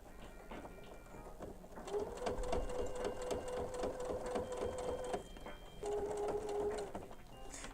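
A sewing machine stitches a pants seam beside a belt loop, a fairly quiet rapid mechanical chatter that runs in two stretches with a brief pause between them, close by and with no talk.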